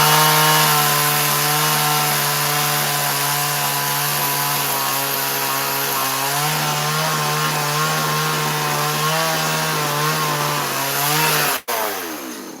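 A chainsaw carving a wooden bear sculpture runs loud and steady at close range, its engine pitch wavering as it trims through the wood before cutting off abruptly near the end.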